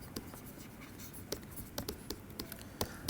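Chalk or pen writing on a board during a physics lecture on parity violation, a run of short scratchy strokes and taps at a soft, moderate distance against quiet room tone, with no talking.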